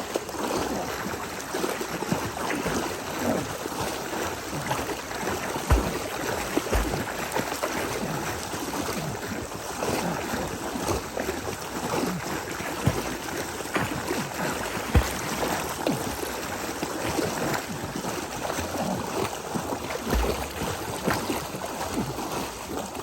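Water is sloshed and splashed by someone treading in a pool to make waves, a steady, soft churning with occasional sharper splashes, fairly quiet throughout.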